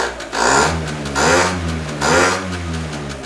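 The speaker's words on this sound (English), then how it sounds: "Literally, the carburetor is louder than the pipe right now. That's all you hear is the carburetor on this thing." A Derbi GP1 scooter engine fitted with a new pipe and racing variator runs with its carburetor intake loudly audible, revving in three rhythmic swells that rise and fall over a steady idle, close and alone.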